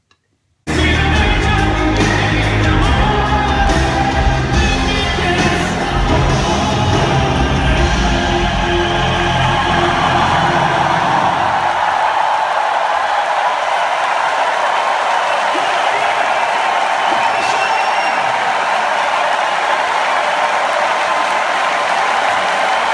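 A large Eurovision audience roars, cheering and applauding loudly and continuously. Music thumps beneath the noise at first, then the crowd noise carries on alone.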